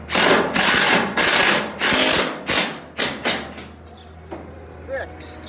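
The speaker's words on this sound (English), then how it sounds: "And then you take your driver, could use a socket also." Power driver running a fixing into a drilled hole in brick, a series of loud close whirring bursts that shorten and fade toward the end, with brief pauses between runs.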